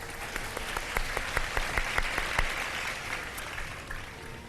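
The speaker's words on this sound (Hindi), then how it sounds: "ऑडियंस अपने लिए तालियां बजा दें जी।" A television studio audience at an iftar program claps for itself, with steady applause carrying a few loud, distinct claps up front before thinning out toward the close.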